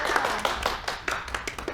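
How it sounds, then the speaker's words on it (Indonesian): Classroom clapping for a student, a short run of uneven hand claps from a small group, fairly close and moderately loud. "Kasih tepuk tangan lagi untuk Oke, April"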